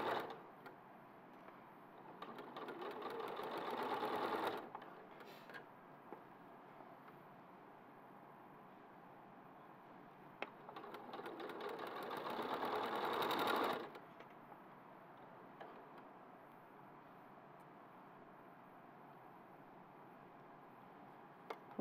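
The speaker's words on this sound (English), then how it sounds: "Nice bit of silent stitching now." Sewing machine stitching in two steady runs of a few seconds each, with quiet pauses between them and no talk.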